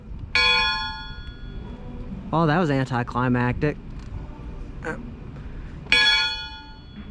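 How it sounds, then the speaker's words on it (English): A bright old schoolhouse bell rings out twice with long ringing tails, separated by a short burst of speech; a softer tap sounds in between. "I am going to ring the bell."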